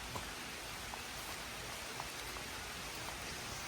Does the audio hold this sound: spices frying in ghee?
no